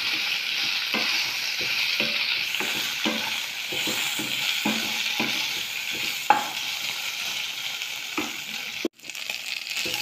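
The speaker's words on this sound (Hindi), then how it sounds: "एहाको आमे तेल रे किछि समय भाजी नबा" Taro (arbi) pieces frying in hot oil in a pan give off a steady close sizzle with soft stirring scrapes and taps throughout, and one sharp clack near the end.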